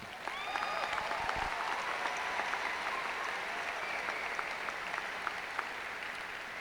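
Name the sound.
commencement audience applauding senior athletes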